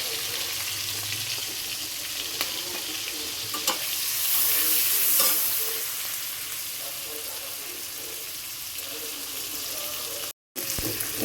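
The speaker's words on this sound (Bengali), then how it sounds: "চিংড়ি মাছ আর পেঁয়াজের সঙ্গে ভেজে নিয়েছি।" Shrimp sizzles in a pan with onion and turmeric, frying loudly and steadily while being stirred, with a few scraping knocks and a brief surge of hissing partway through.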